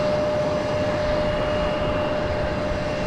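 C-17 military transport aircraft engines at Raleigh-Durham International Airport give a continuous, steady roar with a thin high whine running through it, heard from a moderate distance.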